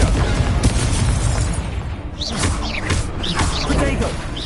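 Confringo fire spells exploding in Hogwarts Legacy, several booming bursts and crackling blasts over dense game noise, with a person's voice shouting over the action.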